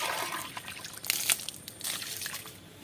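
Water is poured onto a stone mortar for grinding, a close trickling splash with small sloshing surges and a brief louder burst midway, with no voices.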